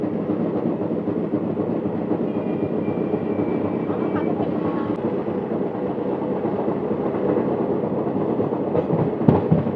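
A passenger train rumbles along on its way to Haridwar station, a loud continuous roar from inside with rhythmic clatter of wheels on rails, a faint whistle-like tone and a few sharp knocks near the end.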